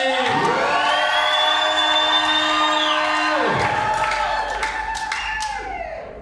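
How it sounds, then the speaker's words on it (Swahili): A church congregation claps and cheers loudly and without a break, with high sliding ululating whoops carried over the crowd noise before everything tapers slightly at the end. "il mérite nos acclamations"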